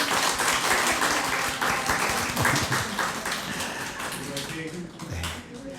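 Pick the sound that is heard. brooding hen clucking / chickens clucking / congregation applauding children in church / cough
congregation applauding children in church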